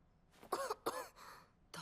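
An anime character coughs twice in quick succession, short harsh throaty bursts close to the ear, followed by a fainter breathy sound and a brief start of another.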